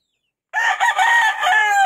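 A rooster crows once, loud and close, a single drawn-out call that starts abruptly after a moment of silence.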